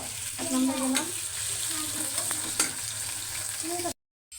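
Onions and chilies frying in a pan with ginger-garlic paste added, a steady loud sizzle with stirring scrapes and a brief cut to silence near the end.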